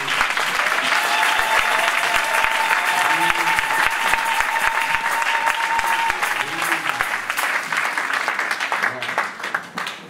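A church congregation applauds the Lord during a service, with dense, sustained clapping that fills about ten seconds at steady loudness and voices mixed into the crowd noise.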